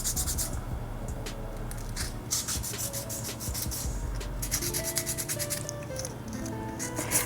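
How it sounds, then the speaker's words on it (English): Paper mache earring corner rubbed with 240 grit sandpaper, a close, steady scratchy rasping in short repeated strokes with a faint hum behind it. "I'm going to actually use the 240 grit sandpaper, and all I'm going to do is just sand the corner"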